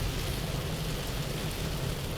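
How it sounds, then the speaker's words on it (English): Heavy rain pours down in a steady, dense hiss with a low rumble beneath, loud and continuous throughout with no voices. "It's raining so hard here."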